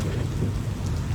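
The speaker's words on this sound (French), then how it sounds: "Il pleut dans la ville de Bafia" Steady heavy rain falls in the town of Bafia as a dense, continuous rumbling wash, loud and close with no pauses.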